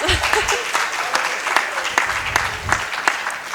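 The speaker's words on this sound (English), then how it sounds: "give them one more round of applause" Steady applause from a summit breakout session audience, with sharp individual claps standing out through a continuous wash of clapping.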